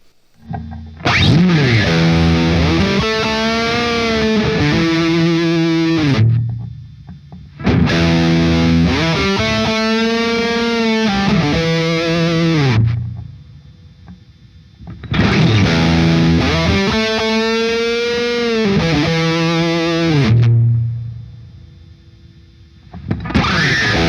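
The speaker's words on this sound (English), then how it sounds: "you guys can hear the prominence of this reverb sound" Distorted electric guitar through a PRS Sonzera 50 amplifier head plays three repeated phrases, each ringing out with a growing wash of echoey reverb tail as the reverb is turned up, before short pauses.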